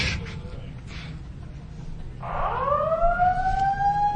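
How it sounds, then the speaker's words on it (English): An alarm siren set off by an alarm button at a DEFCON 16 conference talk wails in from about midway, rising and then holding a steady loud tone over room murmur. "This is not the light button, this is the alarm button."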